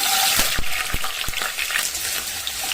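Onion and green chili sautéing in sesame oil for tomato thokku, a steady close frying sizzle broken by several sharp spoon taps and stirs against the pan.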